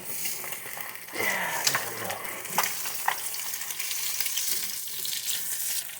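A bacon burger sizzles and crackles in hot bacon grease, a steady broadband fry with occasional louder pops and scrapes of a utensil moving it through the fat.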